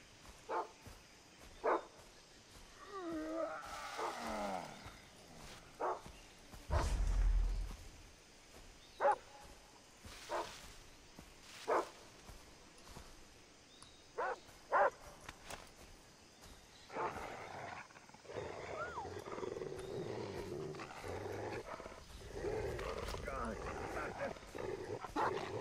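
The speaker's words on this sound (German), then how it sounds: "Hundertprozentig der Hund." A dog in the Far Cry 3 game world barks in sharp, spaced bursts, at times more distant, over ambient game sounds, with voices talking in between.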